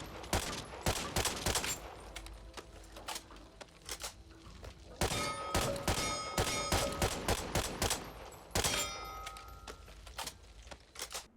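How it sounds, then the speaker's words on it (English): An M9A sniper rifle in the video game Back 4 Blood fires rapid volleys of sharp, loud shots in three clustered bursts, with brief pauses between them and no voices. "You can fire off a good number of rounds before needing to reload."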